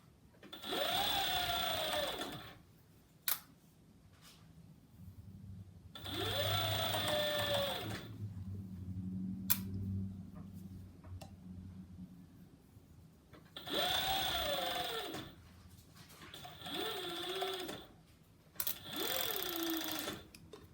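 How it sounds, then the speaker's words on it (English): Sewing machine stitching a classic wrap dress near a pin under the presser foot, running in several separate bursts of a few seconds each with quiet pauses and small handling knocks between them. "So I'm going to stitch as close as I can to the pin"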